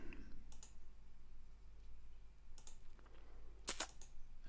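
A few light, scattered keyboard clicks on a computer, faint and close, with near silence between the brief taps.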